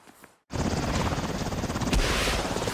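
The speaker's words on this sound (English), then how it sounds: "Bring the chopper in." Helicopter in the video game Saints Row starts abruptly after a brief quiet moment, then a loud, close, continuous rotor roar with rapid chopping pulses.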